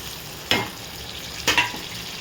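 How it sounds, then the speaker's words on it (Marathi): Tomatoes added to onions frying in a pan for a spicy chicken curry, heard as a constant close sizzle with two sharper bursts of crackling as pieces drop in and are stirred, with no voices. "कांदा लाल होत आला की आपण त्याच्यात टोमॅटो टाकायचं"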